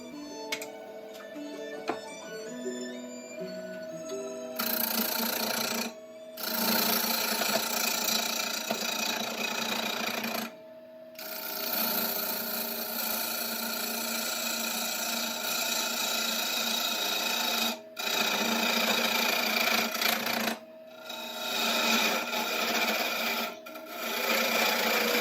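A knotty log spins on a wood lathe, turned into a golf trophy, with a loud, rough scraping and rasping of the tool that repeatedly stops in brief pauses before resuming, preceded by a few seconds of quieter sound.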